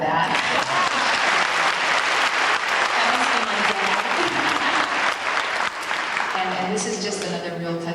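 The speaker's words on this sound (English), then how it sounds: "you can clap for that" Dense, sustained audience applause at an intermediate school concert, loud and steady throughout with many hands clapping, easing slightly toward the end as voices and cheers mix in.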